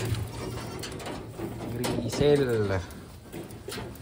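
A grizzle Taiwan pigeon coos softly nearby while someone talks over it, with light cage clatter in the background.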